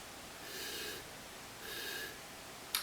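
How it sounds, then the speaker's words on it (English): Two slow, deep nasal sniffs close up while smelling wine, each about half a second long, followed by a brief soft click at the end; quiet otherwise. "take a couple deep sniffs"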